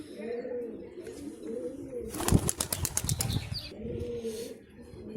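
A sudden burst of rapid wing flapping from a pigeon taking off close by, lasting about a second and a half, with soft cooing and background voices around it.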